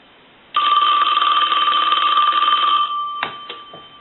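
A Princess rotary telephone's bell ringing loud and close, one sustained ring of about two and a half seconds, then a pause and two short clipped jingles.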